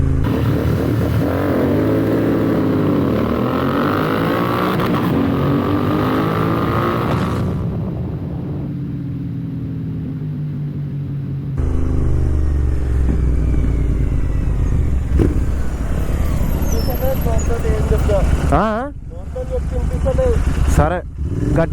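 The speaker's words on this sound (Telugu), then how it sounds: "సెకండ్స్లో 100 అందుకుంది బైక్." A Royal Enfield GT650 motorcycle accelerating hard at speed, its engine note rising through gears in a steady loud roar with wind noise, while a rider talks over it throughout.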